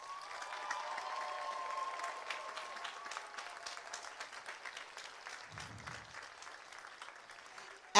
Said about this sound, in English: I'd love you to honor the folks who are here for you with your own applause.